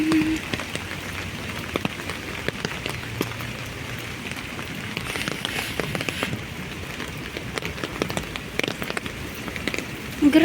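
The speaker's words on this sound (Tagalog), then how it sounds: "Araw-araw umuulan, guys." Steady rain patters and crackles on a surface throughout, dense and fairly close, with scattered sharper drops and no clear talking.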